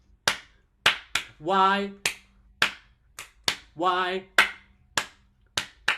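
Children at a Yom Kippur tots service clap their hands in sharp, close claps with a steady rhythm. Short sung or spoken voices fall between the claps.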